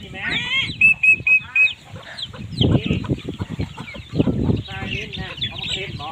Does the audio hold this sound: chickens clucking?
yes